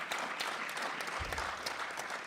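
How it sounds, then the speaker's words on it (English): A conference audience at a sea services spouse panel gives a dense, even round of applause, steady and moderately loud from start to finish with no voices on top. "Can we give our esteemed panel a round of applause again?"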